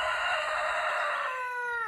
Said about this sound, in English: the rooster is so loud